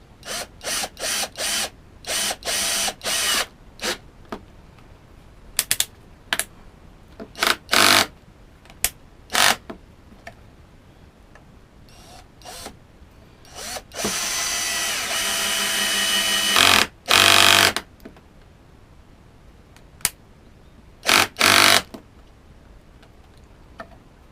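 A power driver buzzes in many short bursts with ratcheting clicks, driving self-cutting screws flush, broken by one longer sustained run of driving, close and loud.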